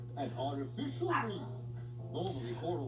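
A dog barks and whimpers in short yips over a steady low hum, close by, with no talking.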